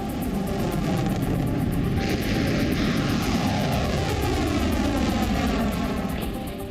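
Israeli fighter jets flying over the Gaza Strip, a steady, loud, broadband roar that holds unbroken throughout with no voices.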